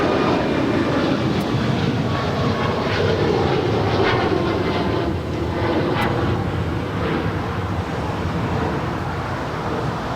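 An airliner takes off from runway 25 Right at Los Angeles International Airport, giving a steady, loud, broadband jet roar that holds through the whole stretch and eases slightly in the second half.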